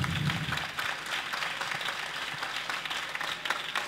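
Moderate applause from an audience at a science project forum after a presentation, a soft continuous patter of clapping heard at some distance.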